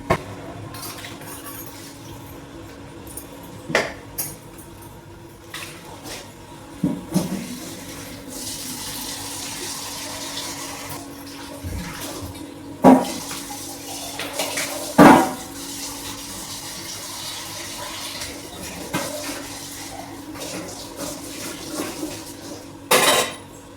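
Dishes are being washed at a kitchen sink with water running. Faint trickling runs throughout, broken by a few sharp clinks and clatters of pots and utensils, with no talking.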